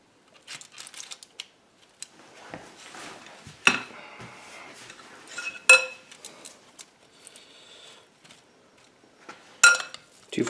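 Two spoons spread mashed shepherd's-pie filling onto potato skins, giving sparse soft scrapes and a few sharp metallic clinks against a dish, close up in a quiet kitchen.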